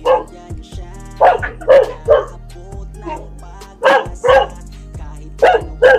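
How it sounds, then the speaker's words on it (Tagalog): Several dogs bark in loud, repeated bursts of two or three yips each, close by, with a low steady hum underneath and no talking. "Maingay ang mga aso."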